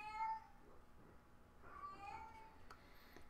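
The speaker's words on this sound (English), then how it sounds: "now you get to hear my cat meow" A domestic cat meows a few times indoors, the calls faint and somewhat distant against a quiet room background, with a longer drawn-out meow in the middle.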